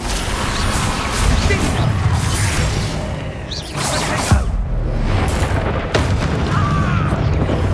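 Rapid bursts of spell explosions from the Bombarda curse in Hogwarts Legacy, loud and dense, with booms and crashing debris repeating over busy, continuous game combat noise.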